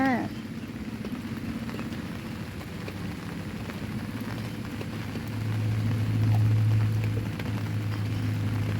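Steady patter of heavy rain on a surface at a campsite in Sangkhla Buri, with a low engine idling nearby that swells midway; no one speaks.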